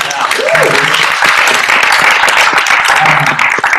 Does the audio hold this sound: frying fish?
no